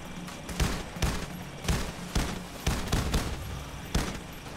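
Sniper gunfire in the video game Payday: The Heist, a steady series of about eight sharp shots spaced roughly half a second apart over background game noise.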